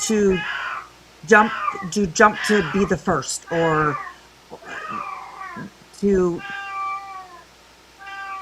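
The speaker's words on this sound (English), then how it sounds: "or sorry about my kitty cat." A cat meows repeatedly close by, several drawn-out cries overlapping with a person talking.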